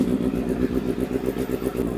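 A 2023 Honda CB650R motorcycle idles close by with a steady, throbbing rumble and a slight rhythmic pulse, no voices.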